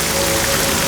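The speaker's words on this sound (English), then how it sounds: "it began to rain" Rain falls in a dense, even hiss with no gaps, loud and close, steady throughout.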